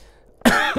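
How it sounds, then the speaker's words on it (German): A single sharp cough lands right into a microphone after a quiet stretch, close, loud and clipped. "ich wollte sich gerade unbedingt ins Mikro husten"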